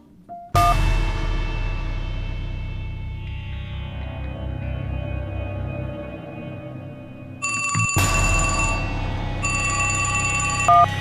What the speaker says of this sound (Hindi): यादव जी का फोन है